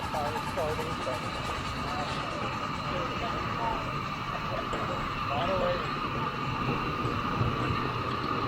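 Model steam locomotive coasting downhill on a miniature railway at a model engineers' track, giving a steady, continuous rolling rumble with faint squeaks, with people talking over it.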